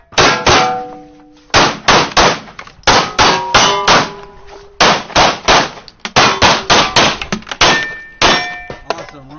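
Rapid gunshots ringing off steel targets during a timed shooting-match stage, a string of sharp loud bangs each followed by a metallic clang, some pairs closely doubled, with short pauses between groups.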